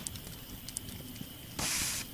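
Gas hisses out as a Thermacell canister is refilled, a sharp, close burst of hissing lasting about half a second after faint clicks and handling noises.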